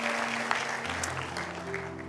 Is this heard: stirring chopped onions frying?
no